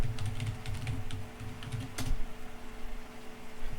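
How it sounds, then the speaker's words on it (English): Typing on a computer keyboard to enter a batch file name at a command prompt, a quick run of close key clicks ending in a firmer keystroke like Enter. "I am going to type in the name of the batch file."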